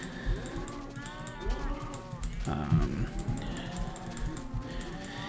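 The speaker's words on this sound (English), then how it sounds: "I have a lot of baby cows in here, but I think they're ready for another breeding" Minecraft cows in a breeding pen, including calves, give several low drawn-out moos at moderate distance over a quiet game background, with someone talking softly alongside.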